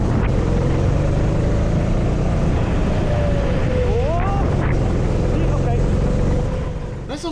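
A racing kart engine running at a kart circuit during free practice, a loud steady drone with a brief rising and falling pitch sweep midway, then fading slightly at the end.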